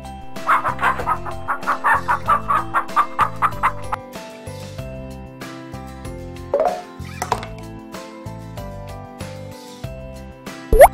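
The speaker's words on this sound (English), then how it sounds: "Hen." A hen clucks in a quick run of about a dozen rhythmic clucks, followed by a couple of louder squawks, over light children's music.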